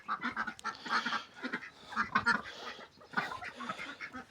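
Muscovy ducks quacking in a series of short, fairly close calls with brief pauses between them, no voices over the birds.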